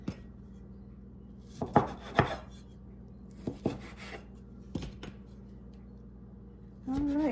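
A knife slices through apple pecan scone dough on a floured board in a home kitchen, making a few sharp taps and soft thuds in an irregular sequence, with a person talking throughout.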